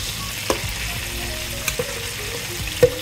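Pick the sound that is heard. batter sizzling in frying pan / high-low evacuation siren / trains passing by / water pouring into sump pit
batter sizzling in frying pan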